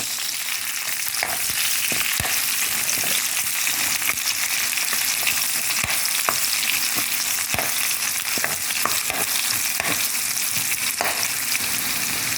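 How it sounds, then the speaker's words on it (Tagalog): Onion and garlic sauté in hot oil in a pan for Filipino binagoongan, a steady loud sizzle with scattered sharp clicks of a spatula stirring against the pan, with no voices. "Igigisa ko muna siya sa bawang, sibuyas, kamatis."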